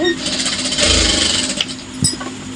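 A sewing machine stitching a blouse back neck design runs in a steady, continuous whir, with a brief louder stretch midway and a few small knocks near the end.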